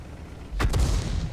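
Artillery fires in World of Tanks: one loud, sharp boom that cuts over low background game noise and then fades into a short, rumbling tail.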